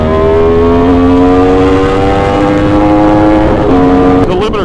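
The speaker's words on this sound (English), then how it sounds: "Listen to the downshifts." Aprilia Tuono V4 motorcycle engine downshifting, a loud close steady V4 drone holding pitch, then a sharp blip and a crackling change of gear near the end.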